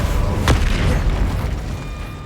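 A spell cast in the game Hogwarts Legacy, the Incendio fire charm, bursts with a sharp whooshing flare followed by a dull boom over a steady rumble of game ambience.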